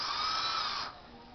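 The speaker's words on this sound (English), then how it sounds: "This is my drill." A handheld electric drill whirs at high speed with a steady, close, buzzing motor whine, then abruptly drops off and winds down within the final half second.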